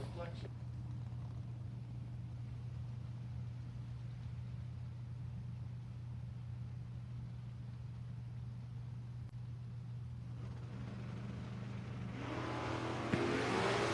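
Drag racing cars, a Mustang in the left lane and a Mopar in the right, rumble with a steady engine drone that swells louder near the end as they accelerate, under a track announcer's talk.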